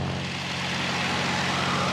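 A Spitfire's piston aero engine drones steadily and loudly through an aileron roll, a continuous propeller roar with a low, even hum and no pauses.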